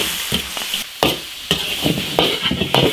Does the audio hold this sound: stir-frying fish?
yes